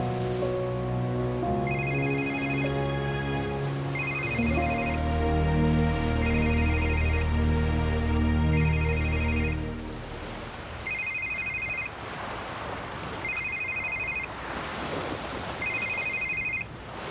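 A telephone rings in a television drama scene, a repeating electronic ringtone of short evenly spaced bursts, first under loud music, then alone over faint background noise.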